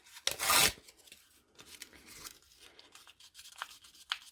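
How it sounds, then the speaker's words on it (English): A small piece of sandpaper rubs the sides of polymer clay disco ball earrings: one brief louder scrape, then faint, soft scratchy strokes in short bursts. "just get a little piece of sandpaper"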